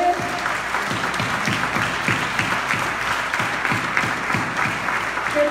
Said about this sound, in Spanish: Quiero darles un aplauso de parte de todos nosotros a ustedes.